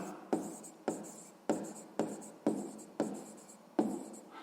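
Pen or pencil scratching out a sixth-grade maths exercise on paper, a series of close strokes each starting with a sharp attack and then trailing off, about every half second, with no voices.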